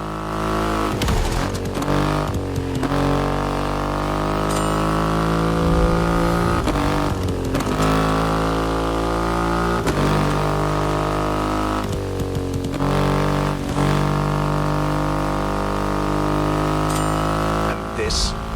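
The 2.5-liter engine of a Triumph Rocket 3 motorcycle in The Crew Motorfest video game, a loud, steady drone that revs up and down through repeated gear changes.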